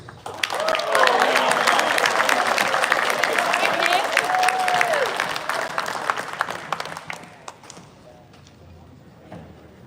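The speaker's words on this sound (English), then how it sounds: "Ladies and gentlemen, one more round of applause for next year's class leaders." An audience claps for newly announced class leaders at a cadet leadership award ceremony; the applause swells quickly, holds steady with a few cheers and voices, then tapers off near the end.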